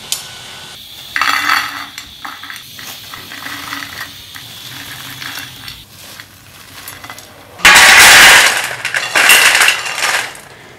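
Double-fried french fries are lifted out of a frying pan with clinking, scraping metal utensil sounds. A loud, dense clatter near the end stands out, and no one speaks.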